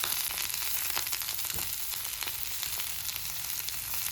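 Cauliflower fries in hot oil with a steady, dense sizzle and scattered crackles, close by, with no talking.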